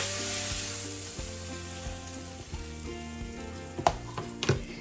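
Flank steaks sizzle in a cast iron skillet with a steady close hiss, broken by a few clunks and taps of handling near the end, with music playing faintly underneath.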